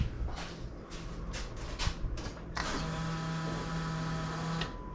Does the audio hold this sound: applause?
no